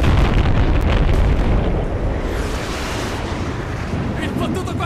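JDAM airstrike explosion in the video game Battlefield: Bad Company 2, a loud, sustained roaring blast with rumbling debris that fills the whole clip and slowly eases off; no speech over it.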